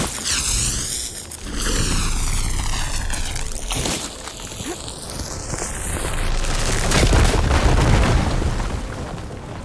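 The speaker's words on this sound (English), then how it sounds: "Should be able to blow up that fire gleam." A fire gleam blown apart in Horizon Forbidden West, a deep booming blast with a rumbling, bursting roar that swells and lingers over several seconds amid sweeping game tones.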